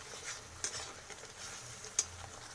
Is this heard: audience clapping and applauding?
no